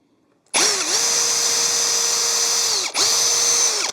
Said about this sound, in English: Go ahead and drill both of them.